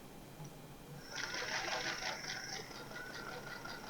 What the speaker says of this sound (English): Put the needle down, put my pen away, and then sew a 1/4 inch.